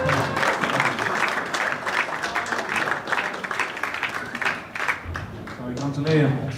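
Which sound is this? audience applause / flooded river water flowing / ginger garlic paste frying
audience applause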